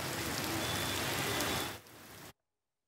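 Steady monsoon rain in Satara district hisses evenly on surfaces as a dense, continuous wash, then drops in level and cuts off abruptly.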